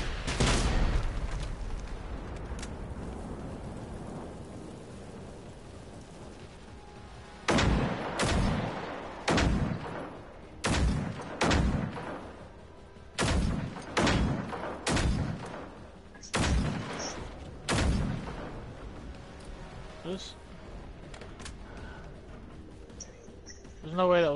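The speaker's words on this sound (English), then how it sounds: "What exactly am I trying to shoot at?" Gunfire in the video game Generation Zero comes as a string of single sharp reports, roughly a dozen spaced shots over the middle of the clip, after a quieter opening with background game sounds.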